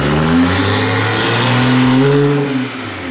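BMW G20 M340i straight-six revving with exhaust valves open, a loud close rev that holds and swells before falling away, deep and throaty with no talk.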